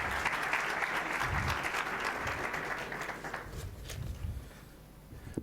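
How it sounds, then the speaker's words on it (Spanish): Audience applause at the presentation of a new penal code project in Buenos Aires: sustained clapping from a large room that gradually thins and fades toward the end, with a few low thuds underneath. "Y lo recibimos con un aplauso."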